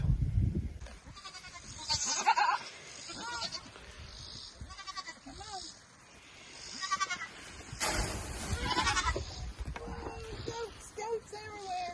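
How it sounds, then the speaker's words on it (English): Goats on a farm bleat repeatedly at close range, several overlapping calls rising and falling over some background movement. "Goats everywhere."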